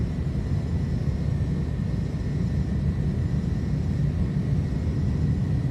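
Airbus A310 jet engines running at takeoff power in Microsoft Flight Simulator, a steady, loud, broadband roar with deep low rumble and a faint high whine, continuous and unbroken with no talk.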